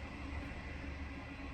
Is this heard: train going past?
yes